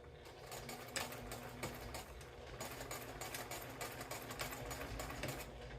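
A sewing machine runs steadily while stitching a small fabric tea wallet, its rapid mechanical needle rhythm continuous and fairly faint, with slight pauses and shifts as it back-stitches at the corners.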